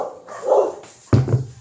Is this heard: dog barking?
yes